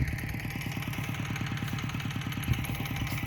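Walk-behind tractor working a watermelon field, its small engine thumping in a steady rapid clatter close by, loud and continuous with no talk.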